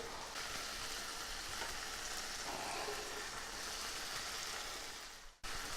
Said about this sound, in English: I got my burner on medium heat, medium high, some button mushrooms from Gibraltar Fruits and Veggies, which I've already sliced, and I got 2 pats of butter.